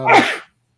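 A single sharp sneeze, loud and close, cutting off abruptly into silence.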